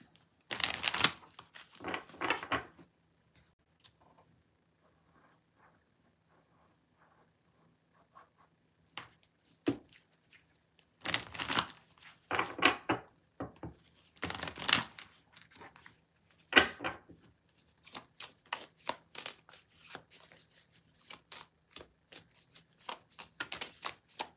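An oracle card deck shuffled by hand in several bursts of papery riffling and flicking, close and fairly faint, separated by near-silent pauses.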